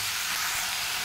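Onion, garlic paste, chopped tomato and whole garlic cloves sizzle steadily in a hot frying pan, a close, continuous bright hiss with no break and no voices.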